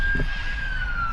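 An ambulance siren wails in a steady, gradually falling tone, heard over low traffic rumble in a brief street moment with no talking.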